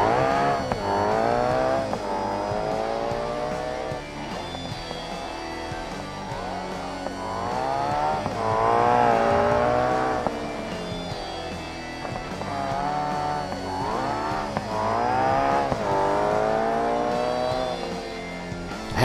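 A car makes a drag racing pass in BeamNG, a nitrous-equipped drag car whose engine drones loudly and steadily throughout, with rising and falling revs as it runs the strip.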